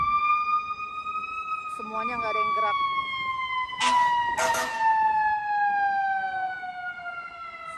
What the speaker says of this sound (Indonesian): kalau misalnya ada pemadam kebakaran sama ambulans lewat